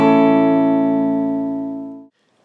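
An electric guitar rings out a single sustained chord at the end of a riff, landing on A, clear and close, decaying steadily for two seconds before cutting to silence.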